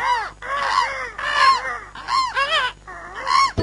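Crows caw in a comic ad for a fake best-of album, giving several harsh, drawn-out calls in a row at close range with short gaps between them and no talk.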